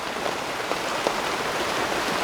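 Steady rain patters down through a forest, a dense, even hiss of drops with a few slightly louder splashes, no voices present.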